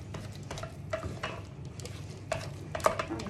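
A spoon beats thick choux pastry dough for gougères in a pot, giving a few scattered knocks and scrapes that stand out against a quiet kitchen background.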